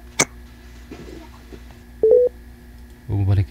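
Short electronic telephone tones sound on a phone line during a call back, a brief beep followed later by a clipped pair of tones, with faint voices and line noise around them.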